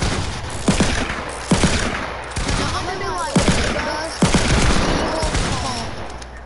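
Pump shotgun and revolver shots go off in a video game, about six sharp loud blasts spaced roughly a second apart, each followed by a short decaying tail.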